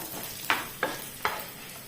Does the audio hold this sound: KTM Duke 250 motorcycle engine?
no